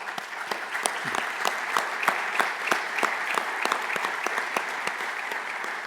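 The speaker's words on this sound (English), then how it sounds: "Such a well-deserved round of applause." Conference audience applause honoring a sheriff at a Special Olympics fundraising recognition, steady sustained clapping from a large crowd with crisp individual claps standing out, loud and continuous throughout with no talk over it.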